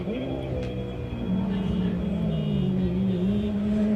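A rallycross car engine drones steadily at high revs during a race, its pitch rising and wavering as the throttle is held, loud and continuous throughout.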